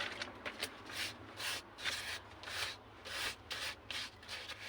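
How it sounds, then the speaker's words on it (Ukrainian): Sandpaper wetted with water rubbed back and forth over a cylinder-head part of a Zubr 8 hp walk-behind tractor, a soft, rhythmic scraping hiss repeating in steady strokes, close and quiet with no talk. "Так, це беремо легонько наждачку, змочуємо водичку."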